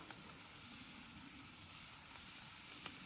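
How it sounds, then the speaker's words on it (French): Bread rolls grilling in olive oil in a pan give off a steady, close sizzle that runs unbroken from start to finish, with faint crackles rising above the hiss. "on va mettre nos petits pains à griller"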